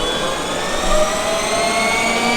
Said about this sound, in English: And this is the dyno section where they test the performance of the vehicle.